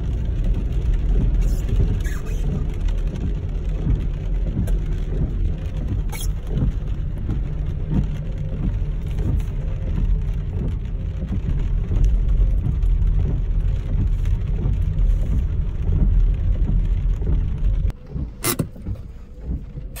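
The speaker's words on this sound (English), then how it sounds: "As you can hear, the weather isn't the best. It's raining, it's been like this now for about 3 days" Steady, loud rain pours for the whole stretch, a dense constant wash with a few sharp cracks near the end that could be thunder; no one speaks.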